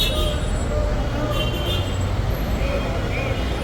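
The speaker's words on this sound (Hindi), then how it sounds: "गज़ा का मेन रोड है, चारों तरफ से गाड़ी आ रही।" Steady traffic noise from vehicles converging on a main road near Masjid al-Haram in Makkah, a continuous roar of engines at moderate distance with a faint voice in the background.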